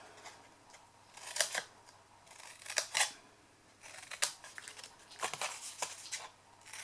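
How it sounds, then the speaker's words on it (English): Scissors cutting cardstock for a stamped card and envelope project, crisp snipping strokes in small clusters with short pauses for rotating the paper, close and fairly quiet with no talking. "we just cut, rotate, cut and rotate, and it's simple as that"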